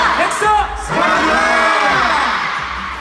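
A large crowd at an EXO concert in Seoul cheers loudly for the dancers, with high screams and whoops rising and swelling throughout as a continuous, dense roar.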